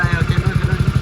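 A motorcycle engine idles close by with a steady, rapid thumping beat that stays loud and even throughout.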